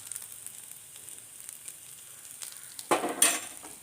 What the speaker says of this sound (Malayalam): കുറച്ച് വെളിച്ചെണ്ണ ഒഴിച്ചിട്ട് ഇതൊന്ന് ഫ്രൈ ചെയ്തെടുക്കാം